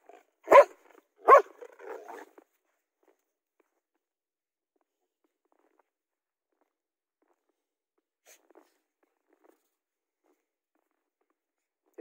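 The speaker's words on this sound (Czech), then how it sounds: "No neštěkej na mě." A dog gives two loud, close barks in quick succession, followed by a few soft scuffs and then near silence outdoors in snow.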